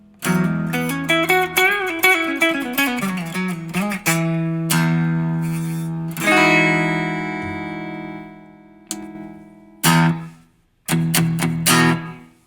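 Enya Nova Go Sonic electric guitar on the neck pickup, heard as a fast melodic run of picked notes that leads into held, ringing chords and a few short strums, played solo with no voices.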